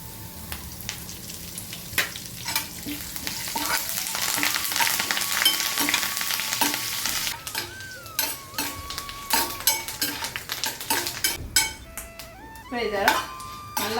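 Ingredients roasting and spluttering in hot oil for Madurai temple-style puliyodharai, with curry leaves added, a loud crackling sizzle with sharp pops and clinks of a utensil against the pan throughout.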